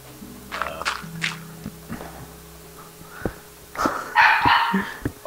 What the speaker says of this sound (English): that's a little dog